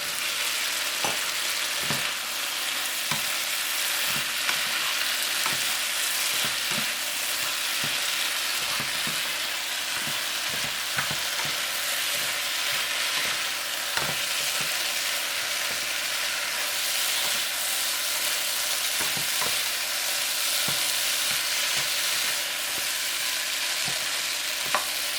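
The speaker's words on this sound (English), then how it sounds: "Then you put the shrimp in it." Shrimp stir-fry in a pan for cashew shrimp, a loud, continuous sizzle held throughout, punctuated by frequent sharp clacks of a utensil tossing and stirring.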